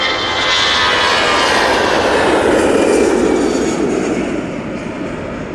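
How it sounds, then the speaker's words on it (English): An Airbus A320-200 jet departs Manchester Airport for Helsinki, a loud, close engine roar with a broad whooshing sweep that peaks and then begins to fade. "Going back to Helsinki with this A320-200."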